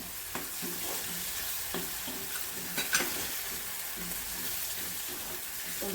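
Chopped tomato goes into small onions frying in a pan for a sprouted moth bean usal: a soft, steady sizzle with light clinks and scrapes of stirring, fairly faint and without talk.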